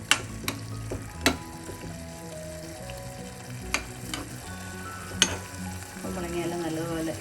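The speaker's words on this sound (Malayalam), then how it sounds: "വീണ്ടും ഒന്ന് ഇളക്കി കൊടുക്കാം." Ash gourd pachadi cooking down in a pan is stirred with a utensil, sharp scraping clicks over a steady close sizzle, with a low background hum.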